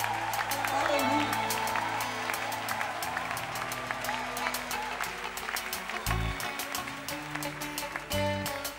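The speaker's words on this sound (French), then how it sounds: "Nous battons les mains tous ensemble." A church congregation claps hands together in unison at a worship service, a dense steady rhythmic clapping throughout, with music and voices underneath.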